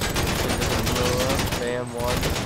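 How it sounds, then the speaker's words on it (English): Loud, continuous bursts of gunfire in the video game GTA 5, aimed at a Pegassi Reaper's tire, a dense fusillade of overlapping shots that fills the whole clip with barely a pause. "Aim right here. A little bit lower. Slowly shoot."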